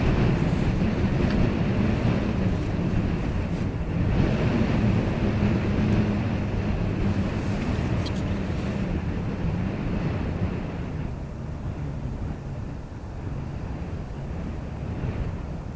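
Strong gusting wind of about 20 knots at Dublin Airport roars steadily across the microphone outdoors, a loud continuous buffeting rush that eases slightly toward the end.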